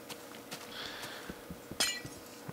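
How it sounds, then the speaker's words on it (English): Glass breaking in the Minecraft video game: a short bright shattering clink stands out near the end, with a few soft taps and clicks scattered around it at low level. "I broke some glass"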